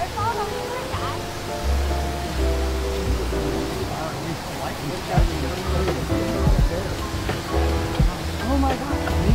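A waterfall in Oregon's Columbia River Gorge rushes in a steady, loud roar with broadband hiss, while people talk close by over the falling water.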